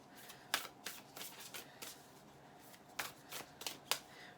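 Tarot cards shuffled by hand in a quiet room, a steady run of soft riffles and papery slaps with a few sharper snaps, close and gentle.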